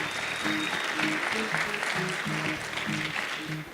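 An audience claps steadily at a public event in the Bronx, a fairly even wash of hands with voices faintly audible underneath.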